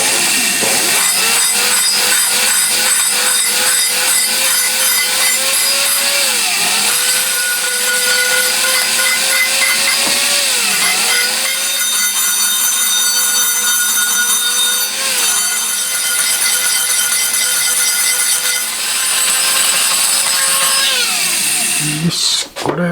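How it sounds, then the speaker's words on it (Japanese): A power tool grinds oxide off an aluminium cylinder head casting for a 125cc four-cylinder engine, a loud high-pitched whine that dips in pitch each time the tool bites harder, running continuously before it stops at the end. "これでゴリゴリ削って溶接する場所全部地金きれいに出しておきました"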